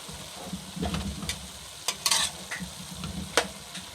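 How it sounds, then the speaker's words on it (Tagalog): Seasoned ground pork sautéing in a pan, a continuous sizzle broken by several sharp scraping stirs of the spatula, close and fairly loud, with no talking. "So haluin natin, igigisa natin ng gusto para kumapit yung itinimpla natin."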